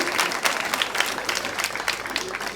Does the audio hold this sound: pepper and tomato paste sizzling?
no